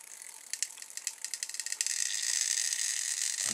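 A homemade, sound-activated toy car wheel built from bargain-store parts spins freely, starting as a fast, light ticking rattle that blends into a steady high whir, close and faint, with no voices.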